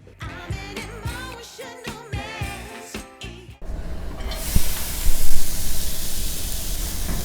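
Olive and sunflower oil heat in small frying pans. A steady, fairly loud broadband hiss and sizzle takes over midway, after a few seconds of tonal, music-like sound, and builds slightly toward the end.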